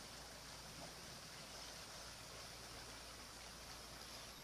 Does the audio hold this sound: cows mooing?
no